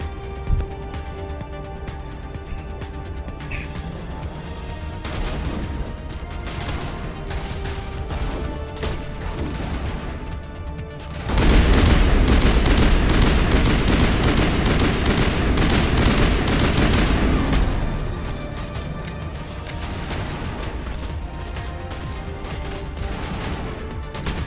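Rapid gunfire from a Mass Effect shooter battle, a steady rattle of shots with a loud, dense burst of firing and impacts midway before settling back to continuous background fire.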